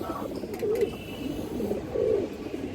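Several soft throaty coos from nearby pigeons rise and fall in a loose rhythm over a steady low background.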